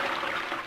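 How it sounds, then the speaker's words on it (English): A toilet flushes in a quiet Tamil film scene, a short, steady rush of swirling water heard close and alone. "The silence in this scene is breached only by the sound of the toilet flushing"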